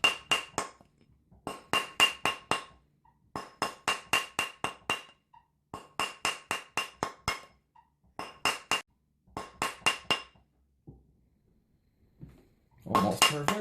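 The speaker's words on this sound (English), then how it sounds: "So keep hammering it until it's that way." Rapid bursts of metallic hammer strikes on a clad quarter coin being forged into a double-sided ring, ringing tapping in quick rhythmic groups separated by short pauses, close and clear.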